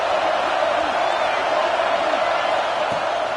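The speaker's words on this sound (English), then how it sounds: "Here comes his home crowd as the defense tries to get off the field on 3rd down." A home crowd at a football game roars steadily during a third-down defensive stand, a loud, unbroken wash of stadium noise lasting the whole few seconds with a voice faintly beneath it.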